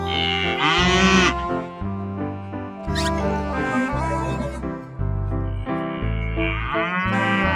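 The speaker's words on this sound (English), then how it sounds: "Cow." A cow moos over a steady children's music backing, a single animal call sitting on top of the bouncy melody and clearly heard in a farm-animal learning song.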